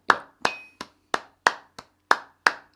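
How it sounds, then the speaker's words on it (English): Hands clap a steady rhythm in a music warm-up, eight sharp, evenly spaced claps close and clear with no talking. "Now keep clapping"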